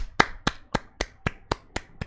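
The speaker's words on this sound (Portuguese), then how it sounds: "Mais um salvo de palmas pro Jonathan." Eight sharp, evenly spaced claps ring out in a steady rhythm as applause for Jonathan. They are close and crisp, with no talk over them.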